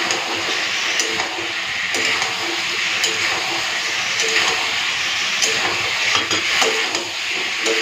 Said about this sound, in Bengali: এই দিয়ে দিচ্ছি ডিম আর আলু। ডিম আর আলুটাকে না মশলার সাথে খুব ভালো মতো কষে নেব।